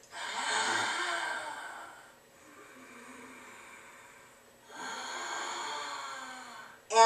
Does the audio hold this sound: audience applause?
no